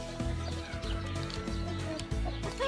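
A rooster on a family homestead clucks in short low bursts close by, a steady run of throaty calls with brief gaps, while farm ambience and other fowl sounds fill the background.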